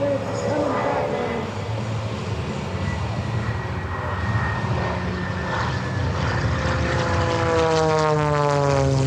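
Scott Francis's aerobatic propeller plane roars past at the Westmoreland County Airshow in 2024, a loud, droning engine whose pitch sweeps and shifts as it passes, with an announcer talking over the noise.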